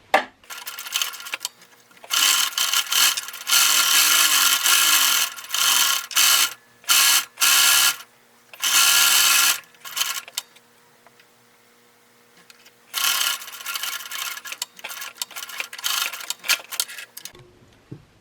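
Sewing machine stitching a folded fabric hem in rapid bursts of mechanical whirring, several stops and restarts, close and fairly loud, with quiet pauses between runs.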